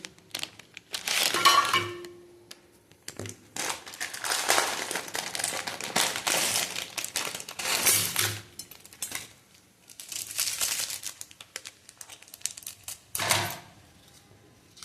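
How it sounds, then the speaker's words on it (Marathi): A block of Maggi noodles snapped and crumbled by hand over a pot of boiling water, close crackling, crinkling bursts in several separate rounds with short pauses between. "ही बघा मॅगी फोडून झालेली आहे"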